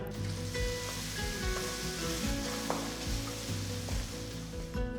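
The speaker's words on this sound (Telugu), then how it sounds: "ఇందులో తరిగిన అల్లం ముక్కలు వెల్లుల్లి తరిగిన ఐదు పచ్చిమిరపకాయలు కరివేపాకుని వేసి కలపాలి" Chopped ginger, garlic, five green chillies and curry leaves sizzle and fry in a pan for sambar, a steady close frying hiss with stirring, and no voices.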